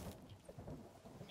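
Heavy rain with rumbling thunder in the survival video game The Forest, a very faint, steady wash of downpour with low rolling rumbles and no voices.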